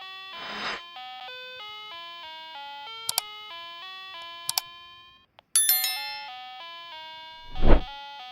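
During a puzzle game challenge at home, a timer alarm rings out as a clear sequence of melodic electronic tones. A few sharp clicks and a soft thump sit among the chimes.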